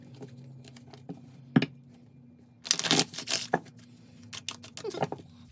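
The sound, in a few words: shuffling tarot cards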